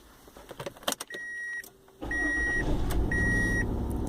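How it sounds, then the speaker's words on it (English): A 2003 Mazda MPV engine cranks and catches, then settles into a steady, fairly loud idle, with repeated electronic chime beeps before and during the running. "I will start the vehicle now,"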